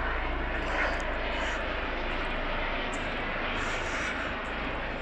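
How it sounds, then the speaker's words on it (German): Helicopter flying overhead during an outdoor summer festival at a greenhouse in Erfurt, a loud continuous broadband engine and rotor roar that stays steady throughout with no talk over it. "Es gibt Hubschrauber hier. Ich hoffe, der macht nicht zu viel Krach."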